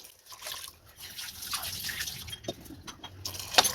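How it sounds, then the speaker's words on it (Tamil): Water splashes and gurgles in uneven bursts as about two glasses are poured into a pot of rice for vegetable biryani at close range. No voices. "அதுக்கு 2 கிளாஸ் அளவுக்கு தண்ணி சேர்த்துக்கலாம்"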